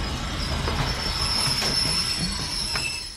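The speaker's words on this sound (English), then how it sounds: "Oh no! Here comes Troy the train!" A cartoon train draws near, a loud, steady rumble with high metallic wheel squeal sustained throughout and a rhythmic clatter underneath, fading slightly at the end.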